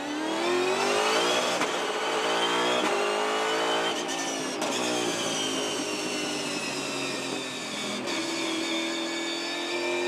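V8 Supercars race cars launching at the start of a race at the Perth SuperSprint, a loud dense roar of many engines revving and climbing through gears together, rising and dipping with shifts over several seconds, no talking.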